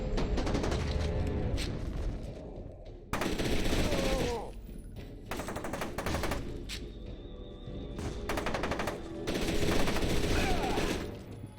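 Rapid weapon fire in the shooter game F.E.A.R. 2, loud bursts of automatic gunfire with thumps and booms, broken by short pauses between volleys.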